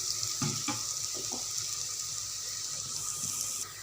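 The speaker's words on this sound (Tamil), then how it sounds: "இப்போ தேவையான அளவு தண்ணி ஊற்றிடணும்" Water poured steadily into a cooking pot for white vegetable pulao, a continuous close splashing hiss lasting several seconds with a few faint kitchen clinks underneath and no talking.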